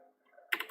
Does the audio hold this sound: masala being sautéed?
no